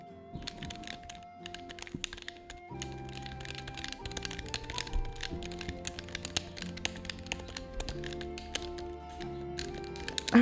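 Rapid crisp clicking and tapping during a game stream, close and irregular, layered over soft steady background music.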